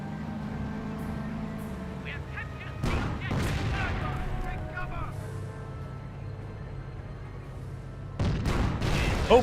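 Gunfire and artillery in a Company of Heroes battle: a few sharp, loud bursts stand out against a steady engine-like rumble, with someone commentating over the action.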